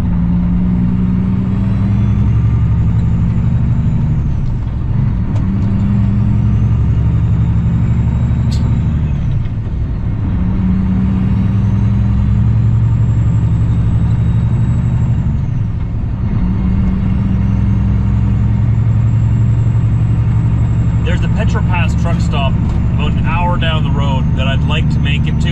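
A truck cab on the Trans Canada Highway 16, with a loud, steady engine drone and road rumble that swells and dips in long cycles, and someone speaking over it near the end.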